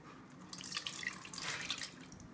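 Water running and splashing from a tap into a sink while cooking in a kitchen, a faint, fluctuating patter and trickle lasting a couple of seconds with no voices.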